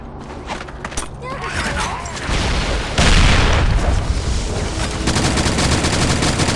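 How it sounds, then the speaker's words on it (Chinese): Grenade blasts and gunfire in the mobile shooter CrossFire during a zombie match, dense and loud, with a heavy boom near the middle among continuous game effects and voices. "手雷投掷"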